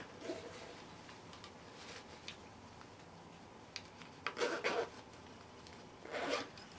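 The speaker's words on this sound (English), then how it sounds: "Zip it up" A zipper on an embroidered cloth bag holding a charango is drawn closed in two quick rasping pulls near the end, after a stretch of quiet handling rustle.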